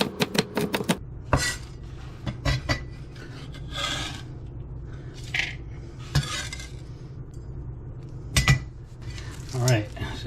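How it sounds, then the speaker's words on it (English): Dry roasted peanuts chopped with a knife on a cutting board, a quick burst of sharp taps at the start, then scattered irregular chops and scraping rubs, close and fairly loud. "We're just gonna chop those up a little bit."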